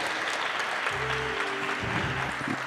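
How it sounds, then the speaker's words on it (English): An audience applauds a keynote speaker with steady, dense clapping throughout, while a voice talks briefly over it. "give him a huge round of applause"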